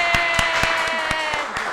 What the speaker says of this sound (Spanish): quiero que producción aplauda conmigo